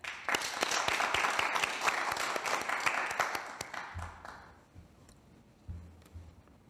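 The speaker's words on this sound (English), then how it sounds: "Please a round of applause for Elten Kiene." Applause from a lecture audience at a Human Rights Day event, scattered sharp claps over a soft crowd wash that fades out after about four seconds, followed by a few low thumps.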